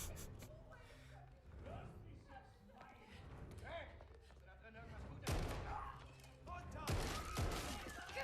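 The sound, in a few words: gunfire in a Call of Duty video game trailer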